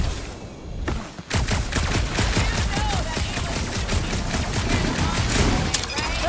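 Rapid sustained gunfire from Guardians of the Galaxy, a dense fusillade of loud close shots with booms and thuds running almost continuously, a voice partly buried beneath it.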